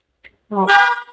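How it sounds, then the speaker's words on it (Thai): A brief click, then one short, loud car horn honk from an MG5 lasting about half a second, close by. "แล้วก็แตรนะครับ"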